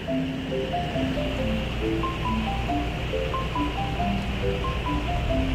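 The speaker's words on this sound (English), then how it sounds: "pouring rain outside." Heavy rain pours outside as a steady, dense hiss that stays even throughout, with faint tonal notes drifting over it.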